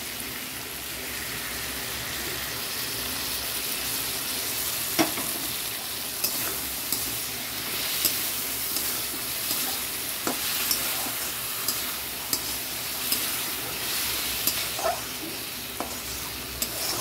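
Poppy seeds and green chillies fry in a pan with a steady, close hiss of sizzling oil, dotted by occasional light clicks and taps of stirring, and no speech throughout.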